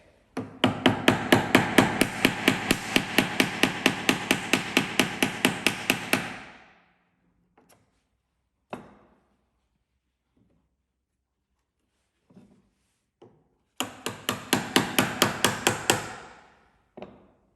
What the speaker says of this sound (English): When I use the mallet this time, I'll be holding it close to the head.